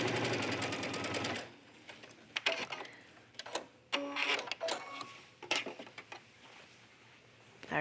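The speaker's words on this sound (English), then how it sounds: "I'm just going to use a basting stitch to keep these in place." A sewing machine bastes fabric for a yoga top's back wrap with a long straight stitch, running in a steady fast rattle at first, then stopping into scattered light handling taps and clicks.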